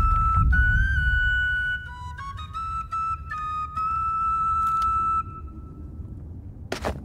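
A clear melodic whistle plays in the fantasy role-playing video game Bard's Tale 4, with several sustained whistled notes stepping up and down over low background ambience, ending with a brief bright chime.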